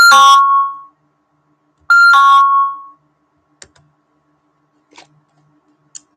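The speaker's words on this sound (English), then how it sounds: "I'm turning that annoying alarm off." A sharp electronic alarm sounds in two loud bursts of under a second each, separated by a pause, then stops, leaving only a few faint clicks and taps.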